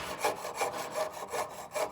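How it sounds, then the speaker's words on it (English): A hand saw cuts through metal in even back-and-forth strokes, five rhythmic rasping passes about every third of a second, close and fairly quiet with no talking. "now I'm going to start sawing towards my normal positioning"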